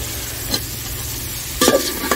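Cauliflower and capsicum being stirred as they fry in a pan, with two or three brief scraping stirs over a steady low sizzle, close by and alone without talk.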